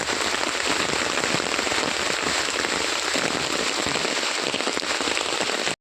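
Heavy rain pours down steadily, a loud, dense, unbroken hiss of drops hitting surfaces close by, with no voices, cutting off abruptly at the end.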